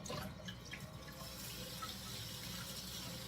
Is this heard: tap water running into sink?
yes